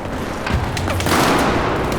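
A dense, loud explosion in the Battlefield 4 multiplayer shooter, with booming blasts and rapid gunfire rumbling together throughout the clip without a break.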